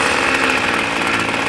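Gas-powered string trimmer running steadily at close range, a dense, continuous buzzing whine with no pauses over the short stretch.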